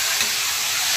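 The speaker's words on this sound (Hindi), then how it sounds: "यहाँ पे हो रहे हैं टमाटर और प्याज फ्राई, ये देखो" Tomatoes and onions frying in a pan give a steady, close, loud sizzle and hiss with no pauses.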